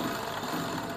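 A sewing machine stitches a woman's blouse with a steady, continuous motor whir that stays close and even throughout, with no pauses.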